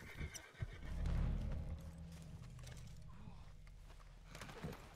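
Horse neighing in a video game, a loud whinny near the start with hoofbeat-like clip-clop and low engine-like rumble continuing underneath over a busy game soundscape.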